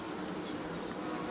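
Honeybees buzzing on a hive frame during apiary work, a continuous low, even hum of many bees close by, steady and unbroken.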